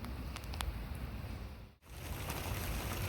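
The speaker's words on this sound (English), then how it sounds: "it is just flat ass raining here" Heavy rain pours down as a dense, steady hiss of broadband noise close around, with a brief dip partway through, and no talking.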